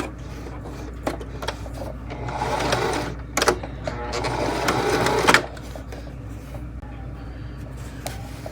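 Sewing machine stitching a dart in fabric, its motor whirring in two steady runs of a couple of seconds each, close and moderately loud, with light clicks and handling noises around them.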